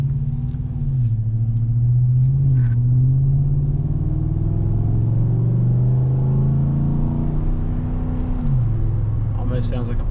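A deep V8 engine in a Chevrolet Silverado pickup rumbles close by during a 0-to-60 run, rising in pitch as it accelerates through gears, steady and loud throughout.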